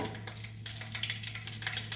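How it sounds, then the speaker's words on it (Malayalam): Mustard seeds sizzle in hot oil for a lemon pickle, a steady close crackle and hiss with scattered sharp pops and a low hum underneath, no voices. "എണ്ണ ചൂടായിട്ടുണ്ട്. നമുക്ക് കടുകിടാം."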